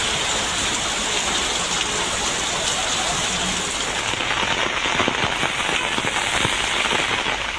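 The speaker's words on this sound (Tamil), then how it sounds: "நீலகிரி மாவட்டம் கோத்தகிரி மற்றும் சுற்று வட்டார பகுதிகளில் இடியுடன் கனமழை." Heavy rain pouring down in Kotagiri in the Nilgiris during a thunderstorm, a dense, loud, continuous hiss with scattered drops pattering on surfaces nearby.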